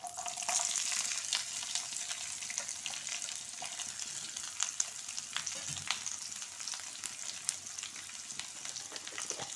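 A medium onion frying in a pan for dahi upma, a faint, steady sizzle with scattered crackles and light stirring throughout, no voices.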